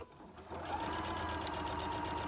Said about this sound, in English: I'm going to sew, starting with that square edge and coming down